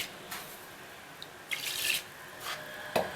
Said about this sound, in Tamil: 1/2 டம்ளர் தண்ணி விட்டால் போதும்.